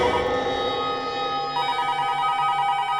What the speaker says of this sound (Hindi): लगता है किडनैपर का ही फोन है।